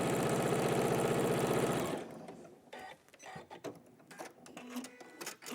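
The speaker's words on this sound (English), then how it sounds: "So I'm just going to quickly sew down there." A sewing machine stitches a quilt's half square triangle in a quick, rapid mechanical run of about two seconds, then stops, leaving faint clicks and handling noises.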